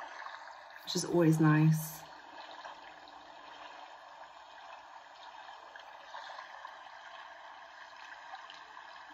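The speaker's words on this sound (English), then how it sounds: "we've got some natural stream" A recorded flowing-stream nature sound plays from a Mudita device as a faint, steady watery hiss, briefly covered by a person speaking near the start, then continuing alone.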